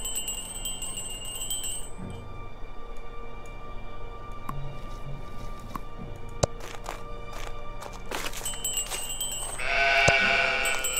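Sheep bleat now and then in the video game Old Man's Journey, with bell-like chimes and soft game ambience under them and a louder burst of sound near the end.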